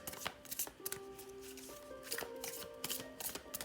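Tarot cards are shuffled continuously in quick riffling bursts, close and fairly quiet, with faint soft music beneath.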